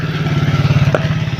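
A motorcycle engine rumbles close by with a steady pulsing throb that stays loud throughout, a brief clatter near the middle.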